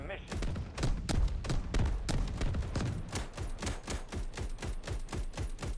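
Rapid, repeated anti-aircraft cannon shots in the video game Delta Force fire in a steady stream of sharp thumps, loud and continuous throughout, with a faint voice underneath.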